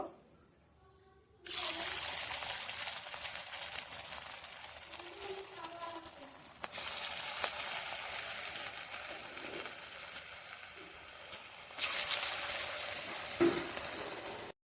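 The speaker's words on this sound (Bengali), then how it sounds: "বড়াগুলো ছেড়ে দিয়েছি, হালকা ফ্রাই হয়ে যাবে।" Bora fritters dropped into hot oil and frying, a steady broadband sizzle that starts abruptly, drops back briefly, then swells again near the end, with faint background noise underneath.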